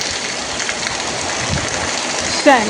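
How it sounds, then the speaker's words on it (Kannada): Steady heavy rain hisses without a break, close and even, with a faint bird chirp near the end. "ಒಳ್ಳೆ ಜೋರು ಮಳೆ ಬರ್ತಾ ಉಂಟು"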